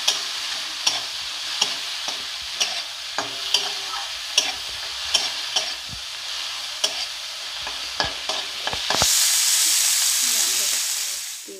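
Spring onion stalks go into a pan for chowmein amid repeated sharp spatula clicks and scraping over a low sizzle, then a loud rush of frying hiss swells up near the end and slowly fades.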